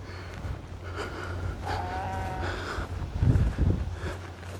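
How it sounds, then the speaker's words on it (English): Low, drawn-out cattle calls rise over a steady outdoor rumble on a countryside walk near Bampton, Devon, a couple of deep moans louder near the end, lowing at a distance. "You can hear all these cattle, but you can't see them."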